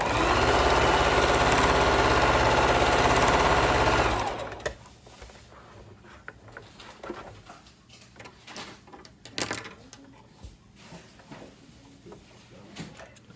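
A sewing machine runs a straight stitch on fabric for about four seconds in a loud, steady, fast whir, then stops, leaving quiet handling noises and faint clicks.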